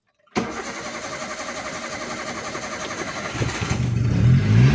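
An older Toyota Avanza converted to CNG starts up abruptly and idles, then is revved. The engine runs loud and close with a rhythmic mechanical chatter and swells louder near the end.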